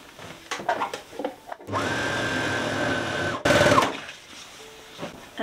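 A sewing machine stitches the inside seam of patchwork trousers made from scrap fabric, running in one steady close burst of about two seconds, then a second shorter, louder burst, with faint handling clicks before and after.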